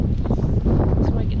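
Gusty wind roars on a hiking trail with gusts of around 70 km/h, a loud, constant blustering rumble buffeting the microphone throughout.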